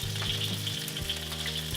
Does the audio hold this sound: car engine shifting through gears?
no